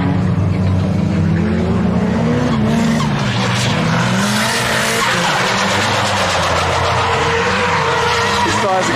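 Drift cars skid around a track with worn-out tires, loud continuous tire squeal and screeching over revving engines, with a voice talking over the noise.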